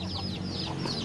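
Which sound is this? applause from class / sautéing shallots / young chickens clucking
young chickens clucking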